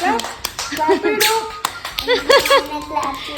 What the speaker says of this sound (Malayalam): clap clap every one clap